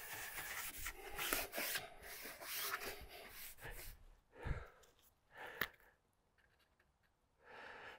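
Brown stain is rubbed into small scratches on a wooden furniture piece with a gray rag, making soft, close scuffing swipes in short bursts with brief quiet gaps.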